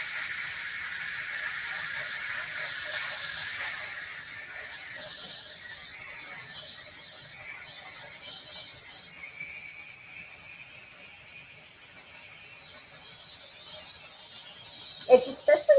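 Steam jets from a pressure cooker's release valve in a loud, steady, high hiss that slowly eases and thins. It ends in a few sharp clicks and rattles.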